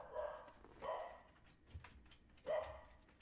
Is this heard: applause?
no